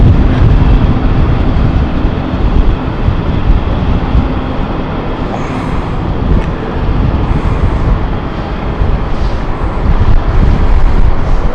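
A C-12 aircraft lands at London City Airport as a continuous loud, broadband roar with a gentle swell and fade, heard alone without talk.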